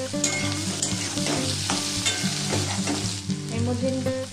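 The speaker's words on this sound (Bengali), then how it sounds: "তো হালকা ভেজে নেবো" Vegetables for pasta fry lightly in a pan, a continuous close sizzle with stirring clatter and a faint tonal hum beneath, no one speaking.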